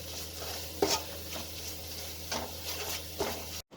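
Khoya being stirred into thick green chilli halwa in a pan, with a few scraping strokes of a spoon against the metal over a soft steady background hiss, spaced irregularly and fairly close.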